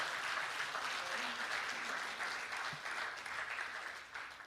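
An audience applauds at a poetry recital (mushaira and kavi sammelan) in Bahrain in 2023, with dense, steady clapping that holds throughout and eases slightly toward the end.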